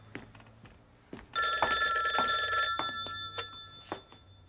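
A telephone bell rings in a home, a loud sustained ringing burst in the middle, surrounded by clattering household knocks.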